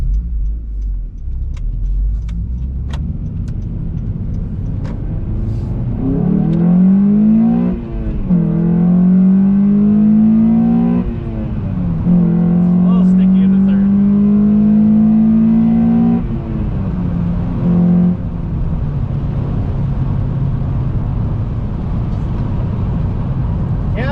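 A 9th-generation Honda Civic Si accelerates hard on a back road, heard from inside as the engine revs climb through several gears with brief dips at each shift, loud and continuous before easing back to a steady cruise.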